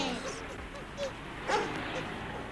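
A cartoon dog gives a couple of short, high yips and barks about half a second apart, faint and close, over quiet background sound with voices present.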